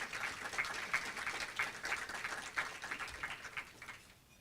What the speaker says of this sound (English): I want you to give PJ and the U.S. Attorney's Office a round of applause